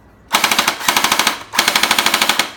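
A Bing Feng P90 gel blaster upgraded with a Gen 8 gearbox motor fires two loud rapid full-auto bursts, each a fast, evenly spaced rattle of shots with a brief pause between, close up and without talk.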